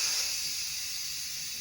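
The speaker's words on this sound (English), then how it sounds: "So I'm going to release the steam" Steam vents from an electric pressure cooker holding pulled pork as a steady, close, loud hiss that holds evenly and fades only slightly over its short span.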